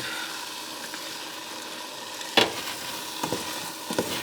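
Rice and beans, with cabbage, stir-fried in a pan, giving a steady soft sizzle with a few louder scraping stirs near the end and no talking.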